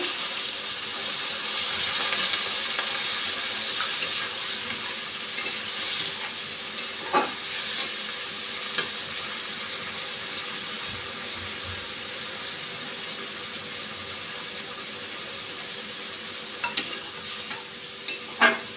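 Masala paste frying and being stirred with broad beans in a pan, a steady sizzle running throughout with scraping spoon strokes and a few sharper clinks near the end, no voices.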